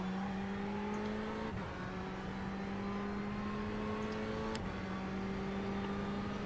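Race car in iRacing at Daytona braking from 260 km/h into the chicane: a loud, steady engine whine that drops sharply in pitch twice as gears shift down, then holds a lower droning tone.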